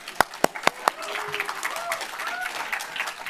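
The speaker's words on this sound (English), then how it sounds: "So let's clap for her." Audience applause at a thesis screening opens with a few loud, separate claps close by, then swells into a fuller crowd clapping with scattered voices and cheers mixed in.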